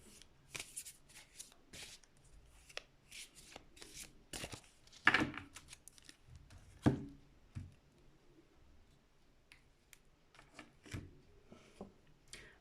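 Tarot cards are shuffled and drawn in quiet, close, irregular bursts of riffling, flicking and soft taps, with no talking.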